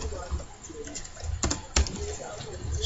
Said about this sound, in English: Let me just type something different,